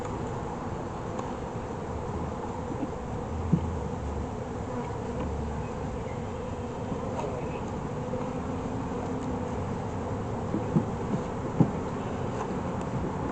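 Honeybees buzz steadily around a beehive brood box, a dense continuous drone close by, broken only by a few faint knocks from handling the equipment.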